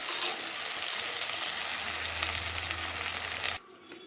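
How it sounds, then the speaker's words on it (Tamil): Drumstick pieces and onion sauté in oil in a pan, a loud, close, steady frying hiss for about three and a half seconds before it cuts off abruptly to near quiet. "ஒரு ரெண்டு நிமிஷம் நல்லா இப்படி வதக்கி விட்டுக்கிட்டே இருங்க நல்லா வெந்துடும்"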